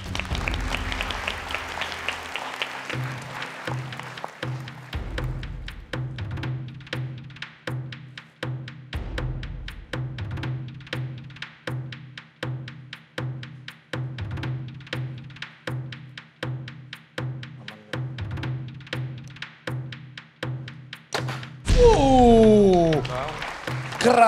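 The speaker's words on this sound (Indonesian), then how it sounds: "Tepuk tangan dulu untuk Kak Ken." A studio audience on the Indonesian TV show Hafiz Indonesia claps in a steady rhythmic unison beat for a guest archer, many even claps repeating for about twenty seconds before a voice breaks in at the end.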